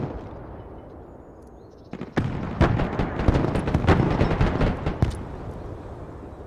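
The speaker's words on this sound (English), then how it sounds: "Artillery at your command, sir. Providing direct fire." Artillery direct fire in the war video game Broken Arrow: a quiet lull, then a dense run of loud, sharp booms and blasts over about three seconds, with one last heavy crack before it fades out.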